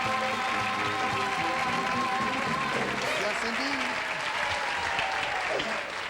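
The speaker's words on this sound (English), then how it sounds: "give ourselves a round of applause" Studio audience applause at a 1975 television game show, steady and fairly loud, with a host's voice and music-like tones running beneath the clapping.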